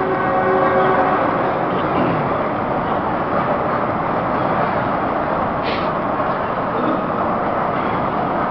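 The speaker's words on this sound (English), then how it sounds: "just arrived at Shenyang Station via this bullet train" A high-speed bullet train at Shenyang Station rolls through with a loud, continuous rumble; faint tonal notes at the start and a short sharp burst midway, with no talking.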